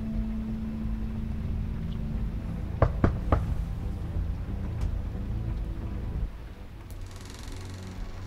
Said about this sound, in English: Knock on the door.